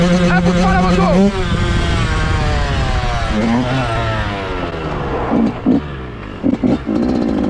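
A motorcycle engine revs in rising and falling sweeps, loud and close, with sharp throttle blips and a clattering idle, while someone talks over part of it.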